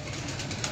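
Pigeons kept by a pigeon fancier coo low and soft in a brief burst against a steady hum of background noise, the calls faint and close together.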